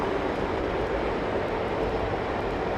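Jet aircraft roar at London Heathrow Airport, a steady broad rushing swoosh that stays loud and even throughout, with no voices over it.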